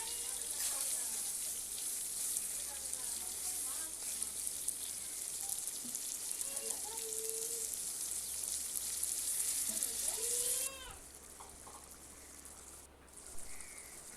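Prawn curry spices with turmeric and garam masala sautéing in oil for a Bengali-style prawn kalia, a soft continuous sizzle with faint stirring scrapes that drops quieter toward the end, with occasional faint voice sounds.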